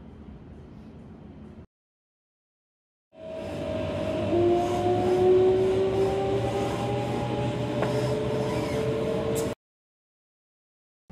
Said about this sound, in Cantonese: 列車去到黃埔，停咗半分鐘就閂門走人。